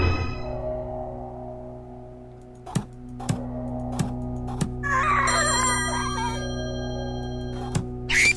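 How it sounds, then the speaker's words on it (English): A ringing telephone inside the horror puzzle game Slayaway Camp, heard as short repeated electronic chimes and bell tones over a steady synth music bed, fairly loud and close. "Ringing phones attract curiosity."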